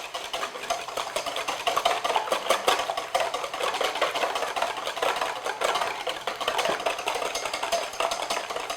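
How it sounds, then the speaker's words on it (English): Two large room-temperature eggs are whisked briskly in a bowl, giving a steady, rapid, rattling clatter throughout with no talking. "And just whisk that."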